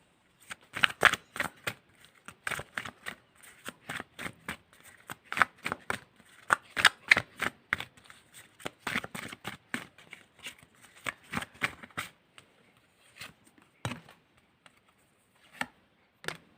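A deck of reading cards is shuffled close up in rapid riffling bursts, with a steady run of crisp flicks and snaps that thins out to a few scattered card taps at the end, without any talk.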